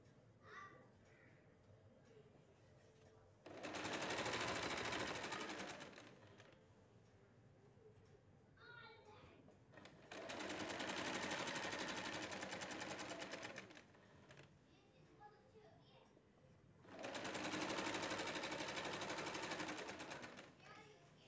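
A sewing machine stitching an embroidered patch onto a shirt, running in three sustained rattling bursts of several seconds each, with quieter pauses between, close and steady, while a person talks quietly in the gaps.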